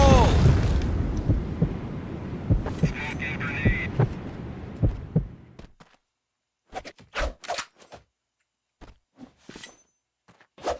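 A loud, close grenade blast in a video game opens with a heavy boom that rolls off over several seconds, then a scatter of short sharp pops and clicks follows in near silence.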